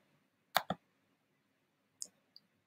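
Computer mouse clicked in quick pairs: two close, sharp clicks, a pause, then two fainter clicks, in an otherwise quiet room.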